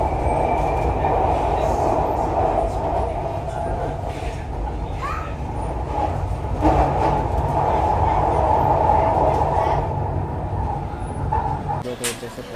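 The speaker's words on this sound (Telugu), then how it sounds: "నేను మెట్రో కోసం వెయిట్ చేస్తా ఉన్నా. మెట్రోలో ఉన్నా." A metro train runs with a steady, loud rumble and a rolling mechanical drone throughout, while voices murmur in the background.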